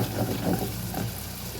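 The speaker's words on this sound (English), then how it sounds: "I'm stirring these around. And I'm going to get them to kind of caramelize" Tomatoes and onions frying in a pan for a tomato onion curry soup, a steady close sizzle with soft scraping of stirring running throughout, no talking.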